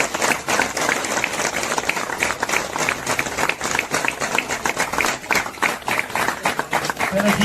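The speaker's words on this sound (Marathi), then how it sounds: "जोरदार टाळ्या होत राहू दे सगळ्यांसाठी." A crowd claps continuously at a felicitation during a Satyanarayan Mahapuja at a Sai Baba temple renovation celebration, the dense applause steady and loud throughout with a murmur of voices underneath.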